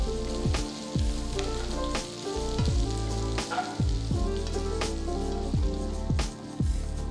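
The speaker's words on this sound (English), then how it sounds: "I'm keeping the flame on high to fry the pieces" Bitter gourd slices fry on a high flame, a strong continuous crackling sizzle with bursts of popping and a few clinks of a utensil against the pan, close and loud, with no talk.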